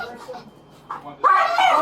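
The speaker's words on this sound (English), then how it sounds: "Let's run the dog." A police dog at a breach during an arrest gives soft whimpers, then breaks into a loud burst of barking, with voices of officers nearby.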